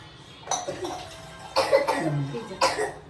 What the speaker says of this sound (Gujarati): ઉધરસ બહુ આવી રહી હતું